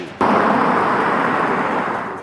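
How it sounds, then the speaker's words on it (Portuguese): War news footage from the Middle East conflict: a sudden loud missile blast erupts, followed by a sustained roaring rumble that slowly fades over about two seconds. "Mísseis, explosões e mais um dia de guerra no Oriente Médio."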